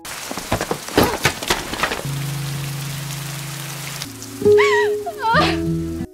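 Steady rain falls throughout, a dense hiss of drops on a surface, with soft tonal music and a few brief melodic accents layered over it; no one speaks.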